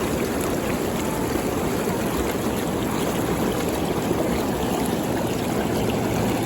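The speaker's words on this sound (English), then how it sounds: "So what I do is I'll just put the bubbles on and kind of hang out where it's turbulent here." Hot tub jets churn the water in a steady, loud bubbling wash that holds evenly throughout without a break.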